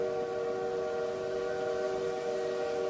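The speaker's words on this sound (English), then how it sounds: "The train has carried us far from home now." Steady rumble of a travelling train with a sustained tonal hum, continuous and even throughout.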